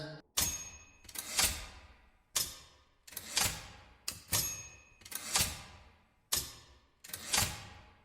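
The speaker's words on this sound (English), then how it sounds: "This is the sound of the last typewriter still being used, somewhere in a quiet corner of the world." Sharp mechanical clacks strike in an irregular rhythm, several close together then pausing, each ringing briefly, like typewriter keys hammering nearby with a faint bell-like tone.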